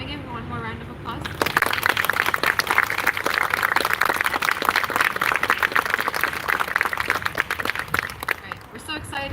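Sustained applause from an audience at a live cultural arts, music and dance event for ceasefire and peace in Gaza, dense clapping that swells in after a brief voice and holds steady throughout.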